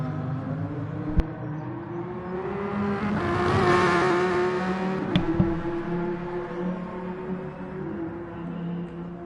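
Tomahawk Group 1 race car in GT Sport at Dragon Trail Gardens, engine howling steadily and swelling loudly as it passes close around four seconds, then fading, with brief sharp clicks.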